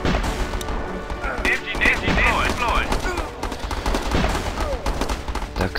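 Rockets and gunfire in the strategy game Battle Islands Commander: dense rapid bursts of shots and whooshing launches in a continuous battle din, with a voice talking over it.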